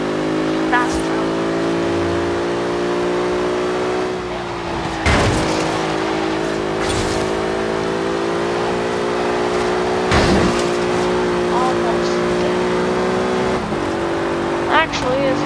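A car driving in the video game Forza Horizon 3, its engine humming steadily with gear shifts and occasional whooshing bursts, carrying on for the whole stretch.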